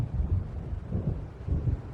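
Low rumbling thunder of an approaching storm in the video game Alan Wake Remastered, rolling in repeated swells with wind, steady and moderately loud with no talk.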